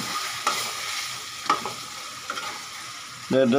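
Chicken meat frying in a pan alongside potatoes, a constant close sizzle punctuated by three spoon-scraping stirs at regular intervals, then a louder surge of hissing at the very end.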